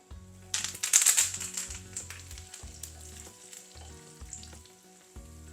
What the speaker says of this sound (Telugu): ఎండుమిరపకాయలు మంచి కలర్ వచ్చే వరకు వేయించుకోవాలి